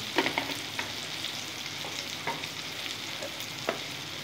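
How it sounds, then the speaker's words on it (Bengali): Ground spices with chili paste, chili powder and Kashmiri chili fry in a pan, giving a continuous sizzle broken by occasional soft stirring scrapes and clicks, close by and with no voices. "ভালো করে আমাকে মশলার সাথে সব মশলা ভালো করে কষে নেব"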